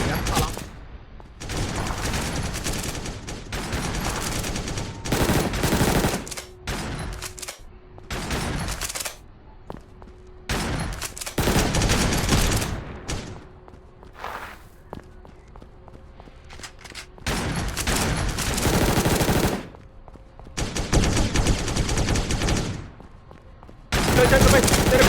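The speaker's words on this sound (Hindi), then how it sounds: "अबे यार शॉटगन से सर पड़ गया साला।" Shotgun fire rings out in the Dead Shot mobile shooter game as repeated loud bursts of gunfire spread across the whole stretch, with short gaps between volleys and footsteps mixed in.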